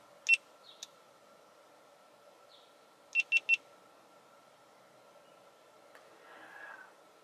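Short electronic beeps from a GoPro Hero 7 Black camera: one beep, a pause, then three quick beeps in a row, against quiet background hum.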